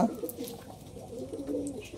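Pigeons coo on a rooftop in rainy monsoon weather, soft low repeated calls at moderate distance, fairly quiet and continuous with no talk.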